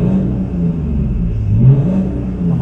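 A BMW F10 car engine revs close by, a loud deep rumble that rises and falls in smooth swells, heard alone without talking.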